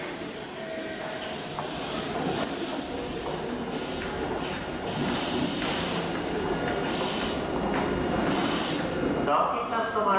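A Meitetsu limited express bound for Nishio pulls into Meitetsu Nagoya station late at night, with a steady hissing rumble and brake-air bursts filling the platform and faint voices in the background.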